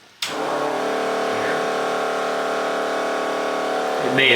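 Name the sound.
fuel pump cavitating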